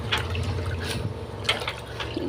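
Gongura leaves are washed by hand in a bucket of water, with continuous sloshing and swirling broken by splashy bursts, close and fairly loud.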